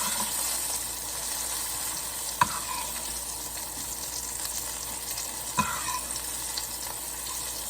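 A filet mignon sears in a hot pan, giving a steady, loud sizzle throughout, with two brief sharp clinks or taps as the steak is turned.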